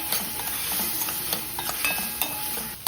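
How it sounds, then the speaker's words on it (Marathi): Chili powder and garam masala sautéing in hot oil, a bright continuous sizzle with scattered light spoon scrapes and crackles, close and steady, no voices. "लाल तिखट टाकते दीड चमचा त्याच्यानी थोडा अर्धा चमचा घेते गरम मसाला टाकते अर्धा चमचा सर्व तेलावर छान परतून घ्यायचे आपल्याला"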